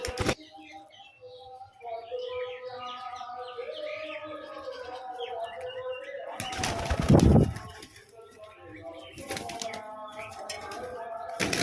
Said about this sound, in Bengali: এই যে এই পায়রাটি দেখছেন একটা গিরিবাজ পায়রা